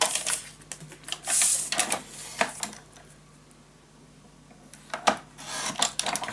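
Paper is cut for the bottom piece of a paper craft suitcase with scattered crisp snips and rustles, some bursts close together and a quieter pause midway, with no speech.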